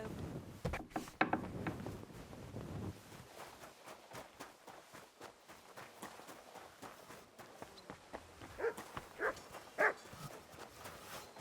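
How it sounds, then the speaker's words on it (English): A dog barks in a medieval town scene in Kingdom Come Deliverance 2, mixed with footsteps, hoof clops and general bustle at a moderate level. "You silly doggy."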